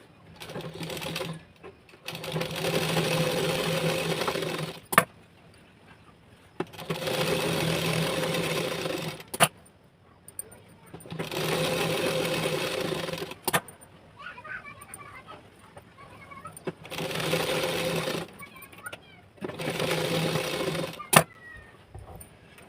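Sewing machine stitching a lined blouse in repeated bursts of a few seconds each, separated by short quiet pauses, with sharp clicks between runs; the whirring is steady and close.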